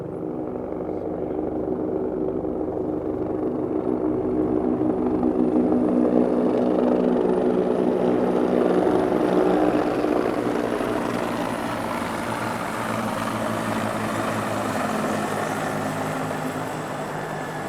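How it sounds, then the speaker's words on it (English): Griffin helicopters of 408 Squadron fly over a cenotaph during a Remembrance Day ceremony, a steady, loud rotor and engine roar that swells around the middle and then slowly eases. "The flyby was presented by 408 Squadron, the Griffin helicopters"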